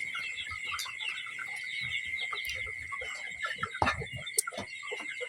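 Chickens cluck in short, scattered calls over a steady high insect-like drone, fairly faint and at some distance, with a louder burst of clucking and rustle near the middle.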